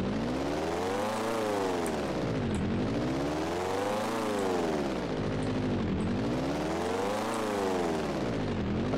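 A sputtering airplane engine in GTA San Andreas drones loudly and close, its pitch rising and falling in repeated sweeping cycles as the faltering aircraft struggles to climb.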